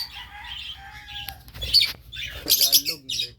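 African lovebirds give short chirps and a flurry of wing flaps at close range, with bursts of high twittering near the end.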